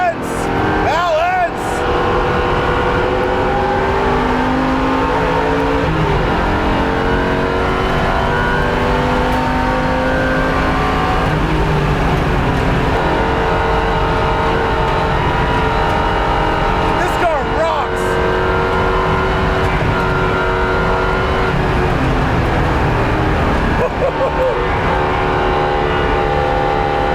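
A 2015 Chevrolet Camaro Z/28 race car drives hard around a track, its engine droning loud and continuous from inside the car, rising and falling through gear changes and revs with brief dips between.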